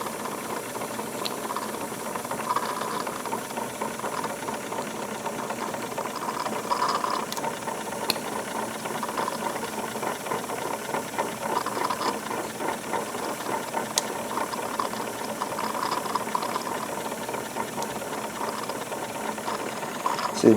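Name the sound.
Wilesco D22 model steam engine running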